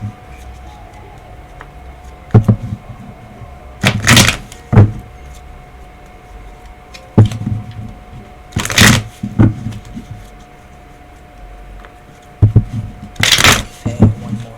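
Tarot cards shuffled by hand in short bursts, several separate riffles spaced a few seconds apart, close and fairly loud over a quiet room with faint background hum.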